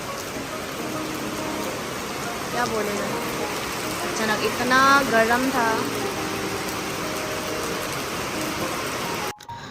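Heavy rain pours steadily outdoors, a dense continuous hiss throughout, with a voice talking over it and brief melodic sounds in the middle.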